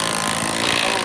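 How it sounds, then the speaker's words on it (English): A power driver sends a self-tapping screw into the metal upright of a gutter machine stand, giving one continuous, loud, close grinding whir that fills the whole short moment with no talk. "And then we're gonna just kind of self-tap it right there."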